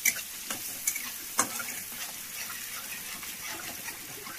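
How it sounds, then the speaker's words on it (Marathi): Chopped onion frying in a pan for a sprouted moth bean and potato curry, giving a steady broadband sizzle with a few sharp spatula scrapes and clinks near the start, close and fairly quiet, with no talking. "आता ते तळायला लावला कांदा."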